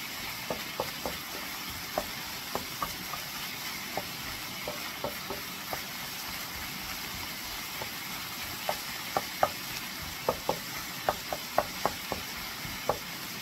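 Meat and peppers fry in a pan over a gas flame with a soft, continuous sizzle, while a utensil scrapes and taps against the pan in scattered clicks as the food is stirred.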